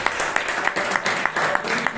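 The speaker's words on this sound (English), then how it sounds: "Then a big round of applause for the person behind the meeting" Audience applause at a Toastmasters club meeting in Bangalore, steady clapping from a mid-sized room with a few sharper claps standing out, carrying on for two seconds.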